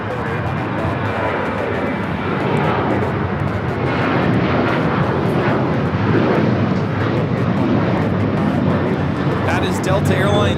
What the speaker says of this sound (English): That is Delta Airlines 986 taking off to Austin on the 737 900ER